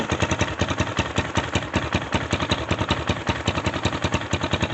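The 250cc engine of a 2019 Xmotos dirt bike idles on full choke, a steady, close, rapid pulsing putter with even beats throughout and no talk over it.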